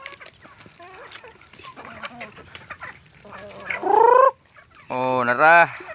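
A flock of chickens clucking and squawking nearby, with loud harmonic cackles rising toward the end, over soft background rustle.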